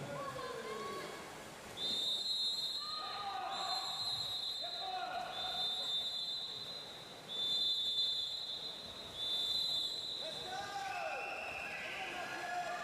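Repeated loud, shrill blasts of a swimming official's whistle echo through an indoor pool during a swimming championship, several long and short bursts under a steady roomy crowd murmur.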